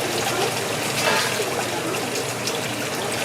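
Tap water runs steadily into an empty pot to soak it, a continuous close hissing splash with a slight surge around the one-second mark, heard alone with no talking.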